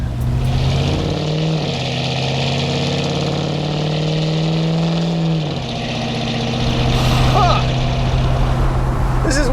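A Chevy squarebody pickup with a new Flowmaster American dual exhaust idles with a deep, steady rumble, then the engine note shifts and rises as the truck pulls away and drives, loud and close.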